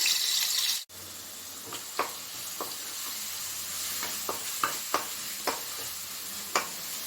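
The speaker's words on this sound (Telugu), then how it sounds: "ఉల్లిపాయ పేస్ట్ లైట్ బ్రౌన్ కలర్ వచ్చే వరకు కూడా మనం వేయించుకోవాలి" Onion paste frying in oil in a kadai, a steady sizzle with scattered stirring clicks and scrapes from the spoon against the pan, moderately close, no voices.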